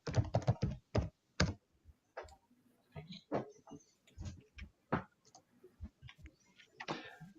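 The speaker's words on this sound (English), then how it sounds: "So I can hear somebody's typing." Someone typing on a computer keyboard close to the mic, with irregular bursts of sharp clicks and short pauses between them.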